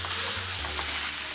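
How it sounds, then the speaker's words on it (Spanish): Meat sizzling in a dry pan without oil, a steady close hiss and crackle with faint scraping as it is stirred, and no talk. "en este sartén vamos a agregar la carne"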